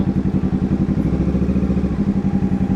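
Kawasaki Z650 motorcycle engine fitted with an open muffler, running close by with a steady, throaty low pulsing idle that swells briefly mid-way, with no talking over it.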